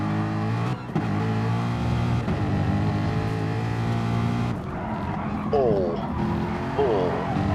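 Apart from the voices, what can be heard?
Mustang race car lapping Brands Hatch in racing video game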